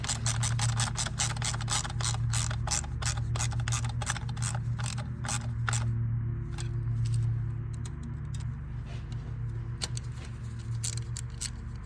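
Ratchet wrench clicking rapidly as it tightens valve cover bolts on a 2012-18 Ford Focus 2.0L engine, a steady close run of sharp clicks that stops partway, over a low background hum.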